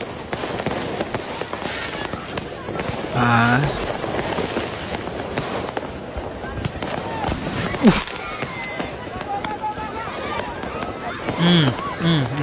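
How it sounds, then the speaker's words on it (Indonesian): Fireworks crackle and hiss continuously, with bursts and pops throughout; a voice briefly exclaims and people talk underneath. "Lagi megang kembang api"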